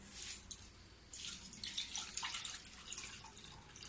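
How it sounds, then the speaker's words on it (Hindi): Cold water poured into a bowl while rinsing freshly churned homemade butter, a steady close splashing trickle with brief bursts running for a few seconds, fairly quiet, without talk. "देखो फिर से मैं ठंडा पानी डाल दी हूँ।"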